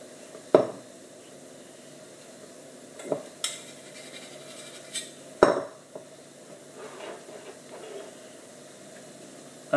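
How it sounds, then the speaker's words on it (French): A spatula scrapes melted chocolate off the bottom of a saucepan in a few short, sharp metallic scrapes and clinks, spaced irregularly over quiet background. "il faut bien racler les fonds de casserole, parce que ça colle"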